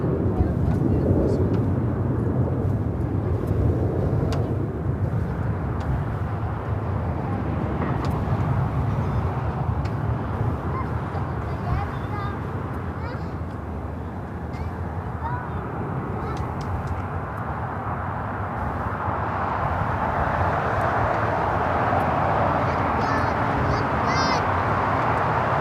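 Eva Air Cargo Boeing 777 freighter pushing back at LAX, a steady broad roar of jet engines and airport noise filling the whole stretch, loud and continuous, with a rising whine toward the end.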